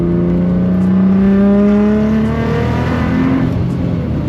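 A Nissan GT-R engine revs at about sixty percent throttle, its pitch climbing steadily and then easing, loud and close from inside the car, with no talk over it.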